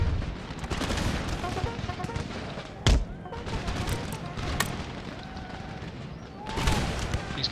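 Musket volleys from line troops in Empire: Total War, a crackle of scattered shots and one sharp loud report among battlefield rumble, with faint distant booms and no clear speech.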